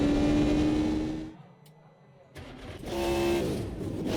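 An LMP2 race car engine in Automobilista 2 idles with a buzzing drone, drops nearly silent for about a second, then returns with a steady revving hum.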